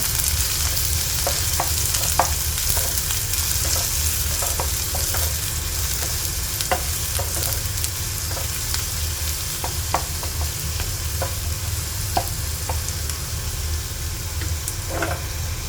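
Onions and dried red chillies sautéing in hot oil in a pan, a continuous close sizzle with occasional crackles and the scrape of stirring, no voices.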